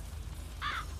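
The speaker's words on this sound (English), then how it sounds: "There's a crow calling at me." A crow in the video game GTA gives a single short caw, a brief raspy call near the end of a quiet, low ambient hum.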